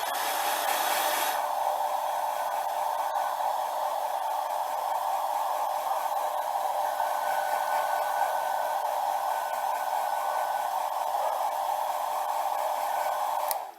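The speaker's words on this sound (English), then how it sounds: "I'm gonna use a hair dryer to dry the paint here quickly." A hair dryer drying paint on a small action figure blows continuously at close range, a steady whooshing roar that holds for the whole stretch without pause.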